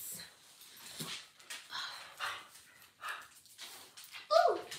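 Puppies whimpering and yipping indoors, a string of faint high whines and brief yelps scattered through the clip, with someone talking softly over them.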